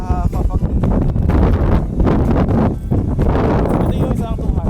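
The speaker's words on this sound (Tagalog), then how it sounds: "Maririnig nyo naman dito yung weather ba, mahangin." Strong wind blows across an open rural lot near Tagaytay, buffeting the microphone with loud, continuous low rumbling gusts that swell and ease throughout.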